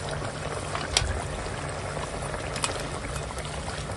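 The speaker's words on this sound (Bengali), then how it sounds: "এখন দিয়ে দেব এই ভেজে রাখা মাছ" Fried fish going into a simmering fish curry with leafy greens, a steady close bubbling and churning liquid broken by a couple of small splashes, with no talking.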